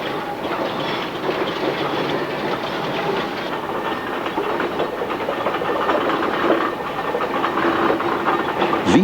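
A 1931 Foden D-type steam tractor rolls past with a rhythmic clanking chuff and rattling wheels, staying fairly loud and growing a little louder toward the end.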